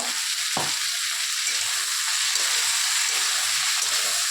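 Drumstick flowers fry with poppy seed, salt and turmeric in a pan, giving a steady, close sizzle that runs evenly throughout with no voices.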